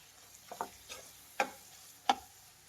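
Mutton fry stirred in a pan with coriander powder, a spoon scraping and clacking against the pan in a few sharp, separate strokes over a faint sizzle.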